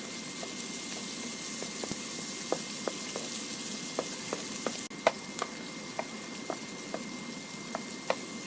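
Linguica sausage fries in a pan of orange grease, making a steady close sizzle with frequent small pops and spits scattered throughout, plus an occasional louder crackle.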